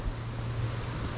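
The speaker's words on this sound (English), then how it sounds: "It is windy." Strong wind rumbles and buffets steadily outdoors while scouting hog-hunting spots on a hot day, a continuous low roar with no pauses and no voices.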